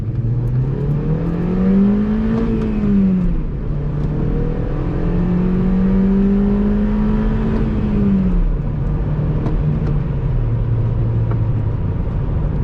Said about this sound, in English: So here is a full throttle pull for you guys.